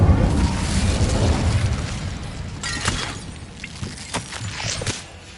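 Incendio fire spell cast in Hogwarts Legacy: a loud booming fiery burst that rumbles and fades over a couple of seconds, followed by scattered crackling pops and shattering clinks that trail off.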